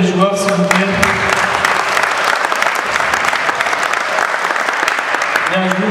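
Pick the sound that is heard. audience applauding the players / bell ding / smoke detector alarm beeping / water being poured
audience applauding the players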